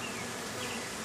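Honeybees swarm around an open beehive during an inspection, a dense, continuous buzzing hum that is close and steady throughout.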